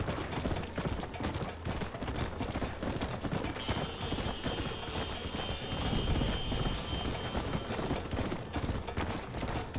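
A horse gallops in Red Dead Redemption, hoofbeats thudding in a dense rapid rhythm beneath loud, busy game sound, with a sustained tone entering midway.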